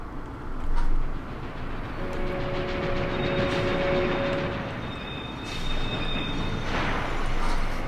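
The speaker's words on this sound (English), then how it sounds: "See that train stop." In Final Fantasy VII, a train brakes to a stop with a continuous heavy rumble and thin high squeals from the wheels that rise and fade, loud and steady throughout, with no talking.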